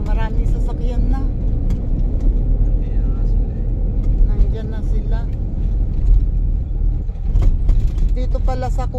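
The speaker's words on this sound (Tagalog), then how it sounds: "Ayan maraming sasakyan na." Several cars and other vehicles arriving near a large hut meeting place, a continuous low engine rumble running under nearly constant close conversation.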